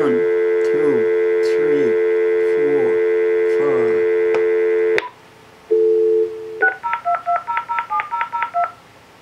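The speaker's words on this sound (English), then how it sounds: "then you dial it on the phone" A telephone number is dialed to reach a watch-setting phone line, with a run of touch-tone beeps over a steady tone, then a click, a brief tone and a quick sequence of dialing beeps.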